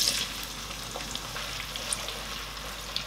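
Onions frying in hot oil in a pan, a steady close sizzle and crackle with occasional small pops and no talking.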